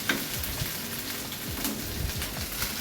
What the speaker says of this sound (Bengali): আর একটু পেঁয়াজ মরিচগুলো ভালো করে একটু ডিপ ফ্রাই করে নিই